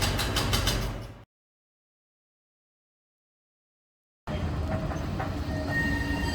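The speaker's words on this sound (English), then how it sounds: "look, there's no waiting. A tram's come for me" A Blackpool tram rolls on rails with a rumbling clatter, cut by a long stretch of silence and then resuming as a steady, close mechanical roar with faint clicking.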